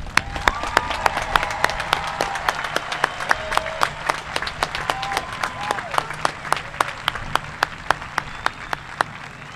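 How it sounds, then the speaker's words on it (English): Sustained applause from a graduation ceremony crowd, with a steady wash of many hands and crisp individual claps ringing through at a regular beat, loud and continuous throughout. "Let's all give them another round of applause."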